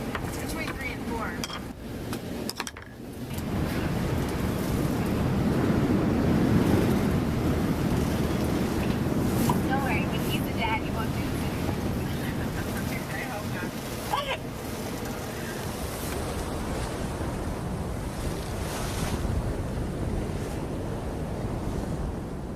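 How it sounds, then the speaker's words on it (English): Broad roaring surf and gusting wind buffet a boat at sea in a storm, a steady loud wash of water and wind noise across the whole stretch with a brief dip near the start. "with waves crashing and the storm pounding us relentlessly"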